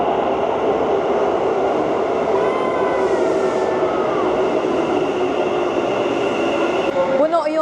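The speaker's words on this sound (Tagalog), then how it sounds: "naghihintay ng train na papuntang either Nishimagome or Haneda or KQ" Metro train at a Tokyo platform heading toward Nishimagome or Haneda, a continuous rumbling roar with whining tones and squeals, loud and near, with voices mixed in.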